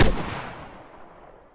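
An anti-tank launcher fires once in the video game Arma 3, a single sharp, loud blast at the start that rolls off into a long, fading rumble.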